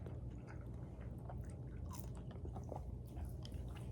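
Close, wet chewing of seasoned fast-food fries eaten without the nacho cheese, soft crunching and squishing bites repeating steadily over a constant low background hum.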